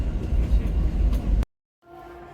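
Dubai Metro train running, a loud steady rumble and rattle that cuts to silence, then a quieter hum with a steady tone as the recording resumes.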